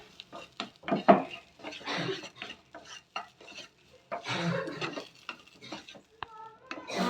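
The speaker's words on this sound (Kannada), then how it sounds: "ಸೊ ಈ ಥರ ಚೆನ್ನಾಗಿ ಮಿಕ್ಸ್ ಮಾಡ್ಕೊಳ್ಳಿ" Food being mixed by hand in a bowl produces soft, irregular squishing and scraping, with occasional clinks of a utensil or dish, close and fairly quiet.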